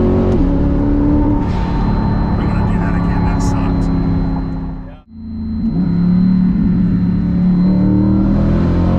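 A Chevrolet Corvette C8 engine with a slight misfire revving loudly and close, a rough rumbling drone that cuts out abruptly midway, then builds again into another rising rev.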